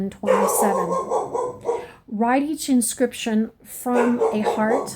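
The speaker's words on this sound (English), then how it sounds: "that's my dog" A pet dog barks and yips in short bursts within an indoor home setting, its calls overlapping with a person reading aloud in a steady voice.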